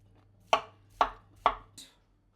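A knife chops cauliflower on a board with four crisp, close cuts about half a second apart, the last one softer.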